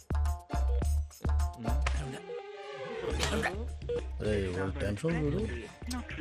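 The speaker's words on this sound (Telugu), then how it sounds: "ఈ ఫోన్ ఒకటి కలుస్తలేదు." A short run of about five evenly spaced dialing beeps, followed by a voice talking, with a tonal sound in the background.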